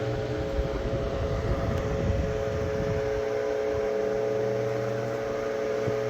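A 1931 Graybar oscillating fan running on high, giving a steady, loud motor hum with a constant whirring drone of moving air that holds evenly throughout, with no voices.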